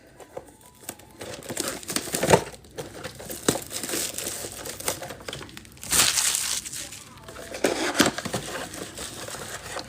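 Phoenix trading card packs are torn open at close range, with bursts of crinkling foil wrapper and tearing over a few seconds, loud and irregular, with faint background voices.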